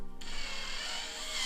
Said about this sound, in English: Take my drill, just set it to 15, so not full drill speed.